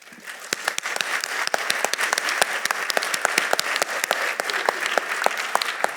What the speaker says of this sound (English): I would love to give them a round of applause for being a part of my life